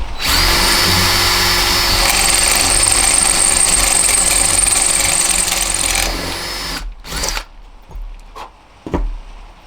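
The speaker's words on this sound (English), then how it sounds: "Use a metal drill bit for this." A power drill whines steadily at high speed for about six seconds while boring through metal, then stops, followed by a few clunks and handling noises.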